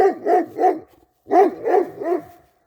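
A dog barks close by in two quick bursts of three barks each, loud and sharp, separated by a brief pause.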